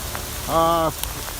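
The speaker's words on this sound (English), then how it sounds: "Right now we got hail the size of what do you call it, BB gun hails." Hail the size of BB pellets falls steadily around a 1965 Santa Fe travel trailer during a weather change, making a dense, continuous patter. A brief tonal hum rises over it midway.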